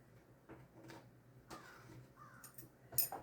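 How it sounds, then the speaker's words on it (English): A crow caws several times outdoors at a distance, the calls faint and spaced out over quiet background noise. "Randall Flagg, my crow, is out there hooting and hollering."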